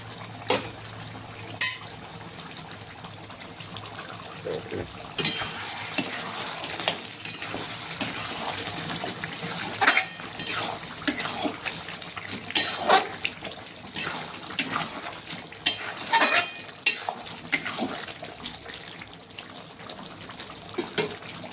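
Spice masala fries and gets stirred in a pan for a red mutton and potato curry. A low sizzle runs throughout, broken by intermittent clinks and scrapes of a utensil, close by.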